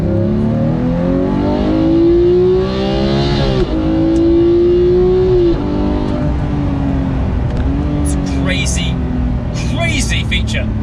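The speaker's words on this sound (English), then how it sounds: "So here's a demonstration of the no lift shift." Porsche GT3 with a manual gearbox accelerating hard and flat-shifting without lifting, its engine note climbing steadily and dipping briefly at each quick upshift, loud and close throughout.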